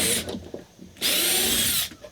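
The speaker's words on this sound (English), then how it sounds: "get a pilot hole started in this block of wood" A power drill whines in two bursts, a short one then a longer steady run, grinding a pilot hole into a block of wood at close range.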